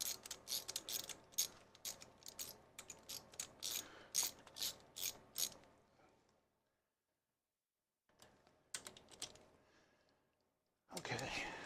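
A ratchet driver clicks in rapid bursts while tightening screws into a corner of a lifter assembly, loud and close for several seconds, then briefly pausing before shorter clicking runs resume near the end.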